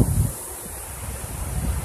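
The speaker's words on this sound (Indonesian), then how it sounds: "Kita lagi di pantai." Beach in Banyuwangi or Jember, Indonesia, with ocean surf and wind, a steady broadband rush with gusty low-end microphone buffeting, continuous and fairly loud, with no talk.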